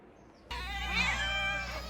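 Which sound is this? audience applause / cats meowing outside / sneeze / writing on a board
cats meowing outside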